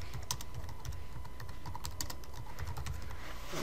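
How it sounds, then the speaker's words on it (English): Typing on a computer keyboard, a quick irregular run of light clicks and taps continuing steadily throughout, close and fairly quiet, with no talking. "So I'm going to type a comment here"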